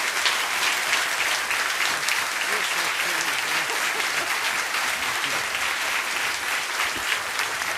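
Sustained warm applause from an audience welcoming Richard Rohr, steady dense clapping throughout with faint voices mixed in.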